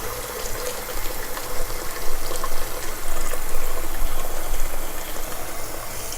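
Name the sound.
water filling a pot to cover a can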